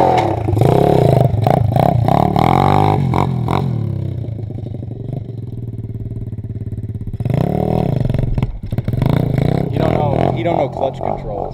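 A Tao Tao 125 motorcycle engine turns over and revs in loud, uneven bursts that settle into a steadier idle before surging again, with people talking close by throughout.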